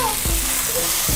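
Tomatoes hit a hot pan for salmon sinigang, raising a loud, steady sizzle and hiss throughout, with faint stirring scrapes underneath.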